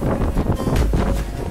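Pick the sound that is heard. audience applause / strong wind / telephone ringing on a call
strong wind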